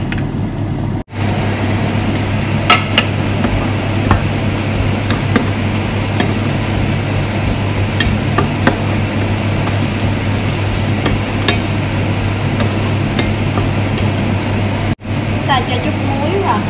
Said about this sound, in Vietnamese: Xào cho đến khi nào chín